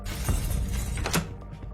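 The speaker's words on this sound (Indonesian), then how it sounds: "Saat Han hendak membuka pintu ruangan itu, ia mendengarkan sebuah kaca yang pecah." Glass shatters in a film scene as a character is about to open a room door, a bright crashing burst over a dense, dramatic soundtrack.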